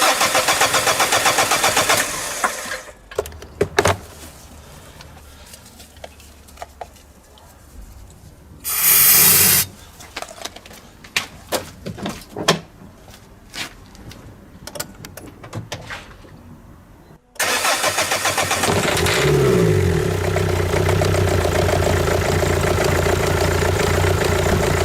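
Diesel car engine with faulty injectors cranks and fires, runs briefly, then cuts to near quiet with clicks and a short spray-like hiss before restarting and settling into a steady, loud idle.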